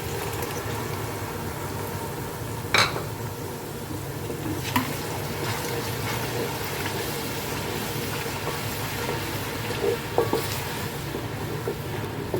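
Tomato paste frying in chicken gravy in a pan, a steady close sizzle with occasional clinks of a stirring spoon, and no talk.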